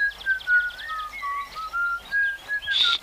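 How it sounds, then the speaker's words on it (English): Someone whistles a cheerful, wandering tune alone, the notes bright and lilting with short pauses between phrases, in a Moomins cartoon. "Moomin Troll began to whistle happily to himself."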